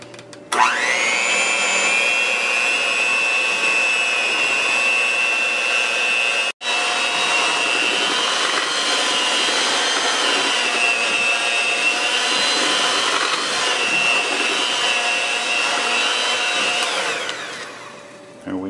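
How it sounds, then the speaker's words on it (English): An electric mixer blends softened butter with sugar into a paste for oatmeal chocolate chip walnut cookies, a loud steady motor whine that runs nearly unbroken, briefly cut once, then trails off at the end. "put in the 2 cups of sugar, and we're going to blend this to make a kind of like a paste"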